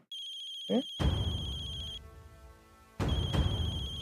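A telephone rings in a Marathi TV serial scene: two loud electronic ringing bursts separated by a quiet gap, after a brief vocal sound.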